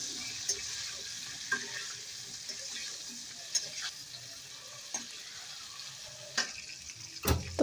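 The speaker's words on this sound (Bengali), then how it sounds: "তো আমি লবণ আর হলুদ দিয়ে ফুলকপিটা ভেজে নিচ্ছি, ভালো করে লাল লাল করে ভেজে নেব।" Cauliflower and kohlrabi fry in oil with salt and turmeric, a faint steady sizzle broken by occasional spatula taps and scrapes, growing louder near the end.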